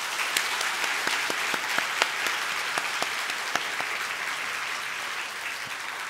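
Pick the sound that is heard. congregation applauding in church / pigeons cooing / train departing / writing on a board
congregation applauding in church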